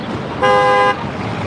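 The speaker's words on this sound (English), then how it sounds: "Get honked at." One sharp car horn blast, about half a second long, cuts through the traffic noise in the background.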